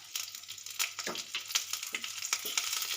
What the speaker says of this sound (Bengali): আমার তেলটা গরম হয়ে গেছে আমি ফোড়নে দিয়ে দেব কালো জিরে দিয়ে দেবো চিড়ে রাখা কাঁচা লঙ্কা